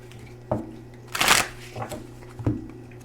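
Tarot cards from a teacher deck shuffled in a few quick riffling bursts, with one longer, louder flurry in the middle, close by over a steady low hum.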